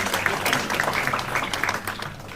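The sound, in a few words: audience applause welcoming the Vice Chairman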